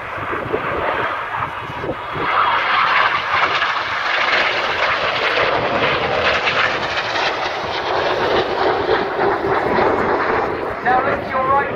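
Display aircraft fly over the Royal International Air Tattoo 2014 air show, pulling 6G in close formation: a loud, steady jet-and-propeller roar that swells and holds throughout, with gusty wind buffeting the microphone.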